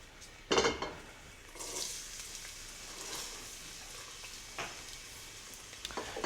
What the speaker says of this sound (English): Now I'm going to fry off some onion here, which I've chopped, and add some garlic.